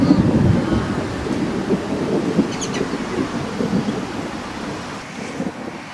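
Rolling thunder rumbles low and long over Lake Illawarra in New South Wales during a storm, with steady rain and wind noise underneath and a faint distant car.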